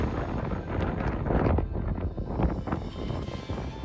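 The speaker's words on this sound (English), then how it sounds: "It's a little windy" Wind blowing across the mountains of the Canadian Rockies, a loud continuous roar buffeting the microphone with gusty surges, no voices.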